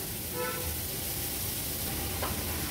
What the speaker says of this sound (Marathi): तो क्रश देखील व्यवस्थित आलं लसूण क्रश आणि कांद्यासोबत असा परतून घ्यायचा आहे.